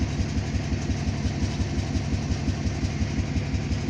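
A Duramax diesel truck engine in poor running condition idles roughly in a driveway, with a steady, loud, low rumble and a pulsing, uneven beat heard up close and without talk.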